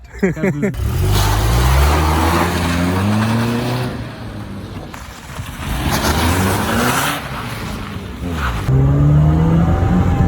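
Mercedes W202 engine running on LPG gas, heard from inside the moving car as a loud, steady drone with rising and falling revs, and a voice talking over it throughout.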